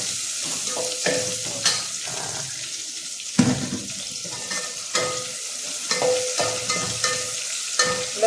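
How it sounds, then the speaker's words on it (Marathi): Jackfruit vegetable mixture seasoned with asafoetida being stir-fried in a pan, with repeated scraping stirs and knocks over a soft, steady sizzle, close and moderately loud, no talking. "हे व्यवस्थित असं मिश्रण परतून घ्यायचं"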